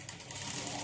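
Sewing machine running steadily while stitching a folded-in hem on a blouse, a continuous close mechanical whir with no pauses across the short burst.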